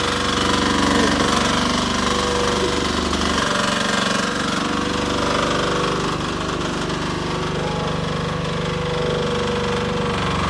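A mini excavator backhoe with a 15 HP diesel engine digging soil, its engine running in a loud continuous rattling chug close by, with slight shifts in load throughout.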